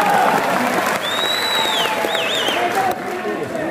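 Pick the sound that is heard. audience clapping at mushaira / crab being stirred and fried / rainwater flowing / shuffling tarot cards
audience clapping at mushaira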